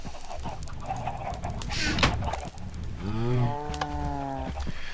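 Cows in a video-game mob farm moo in a loud drawn-out call near the end, over a steady mechanical hum and scattered clucking from chickens nearby.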